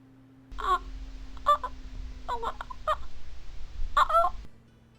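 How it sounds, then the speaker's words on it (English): Several loud, harsh fowl-like calls burst out in separate bursts over a low steady hum, with no one talking. "bird was heinously loud."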